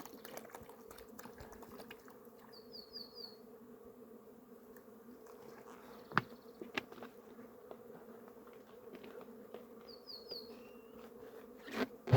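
Steady low buzzing of honey bees at a hive being fed syrup, a continuous droning hum with a few faint higher whines and soft knocks, close by and without talk.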